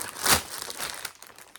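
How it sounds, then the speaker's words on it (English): A snack packet of pork crackling rustles and crinkles close by, one loud crumple followed by softer fading crackles. "you can hear the rustling"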